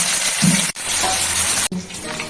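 Green chillies soaked in vinegar fry in hot oil with a bright, steady sizzle, close and continuous apart from two brief dropouts.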